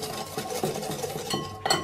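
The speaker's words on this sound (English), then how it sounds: "I like to give those just a little whisk together." Cocoa powder and stevia whisked together in a bowl, the whisk lightly scraping and clinking against the sides in a steady, close rhythm.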